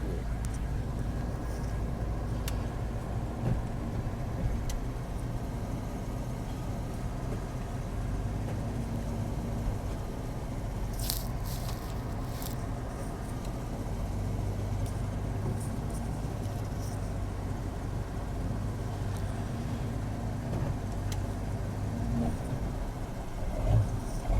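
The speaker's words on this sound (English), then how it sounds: "Ooh, K5 sounds so good." A Chevrolet K5 truck with a 350 engine idles after a cold start, giving a steady, deep low rumble close by, with faint clicks and light background noise.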